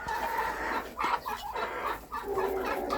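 Chickens cluck in short, fairly quiet bursts at a backyard poultry yard, a few hens calling over each other with no speech.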